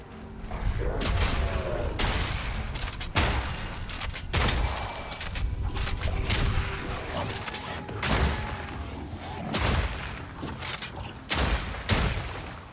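Grenade explosions in the action RPG Path of Exile 2, a rapid series of loud, booming blasts repeating every second or so over continuous battle noise, with no talk.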